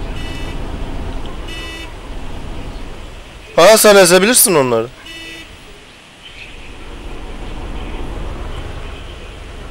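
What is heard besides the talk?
car horn honking in video game Arma 2 DayZ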